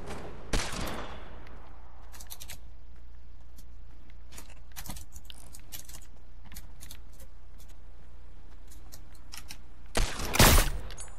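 Video game shooter on a PC server: bursts of rapid gunfire at the start and a heavier burst near the end, with scattered single shots in between over steady game background noise.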